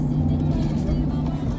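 An old truck's engine runs steadily close by, a continuous low rumble with a steady hum and no clear rise in revs.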